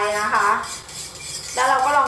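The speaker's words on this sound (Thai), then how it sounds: "เราก็คนนะคะให้เกลือละลาย" A utensil stirs soy sauce and salt into a beaten egg mixture for Japanese-style steamed egg custard, clinking and scraping against the bowl in two bursts with a short quieter gap between them.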